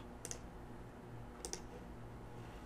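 Two pairs of quick, light clicks, like a mouse button pressed twice in succession, separated by a second of quiet room hiss.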